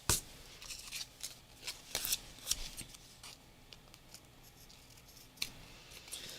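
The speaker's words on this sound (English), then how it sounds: "let's cut off these little ragtag edges" Sharp scissor snips trimming the ragged edges off altered craft cards, a series of quick, irregular close cuts with soft paper rustling between them in a quiet room.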